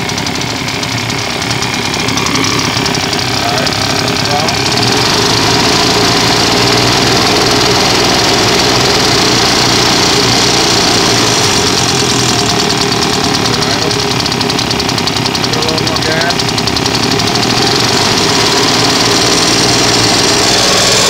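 Husqvarna two-stroke leaf blower engine running after a piston and cylinder rebuild, a loud continuous buzzing drone close by for the whole stretch, with people talking over it.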